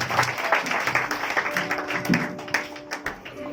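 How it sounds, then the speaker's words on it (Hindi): Audience clapping for Ashish at a 2019 church anniversary gathering, a dense, lively round of applause close by with uneven loud claps, a brief tonal sound joining partway through. "मैं चाहता हूं ताली बजाकर आशीष भाई को"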